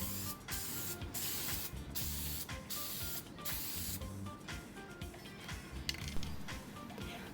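Short, repeated bursts of aerosol spray as clear coat is misted onto printed inkjet decal paper, a close, hissing rhythm of quick puffs followed by a longer continuous spray.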